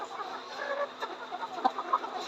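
Soft, irregular clucking from several layer pullet hens about 110 days old, a low steady murmur of birds with a few sharper clucks standing out, fairly close by.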